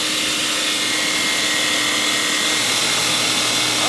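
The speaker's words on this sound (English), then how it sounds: "And that's how you grind up amberjack." An electric meat grinder churns amberjack fish meat for fish burgers in a constant, loud motor whir with a gritty, noisy texture and no pauses or talk.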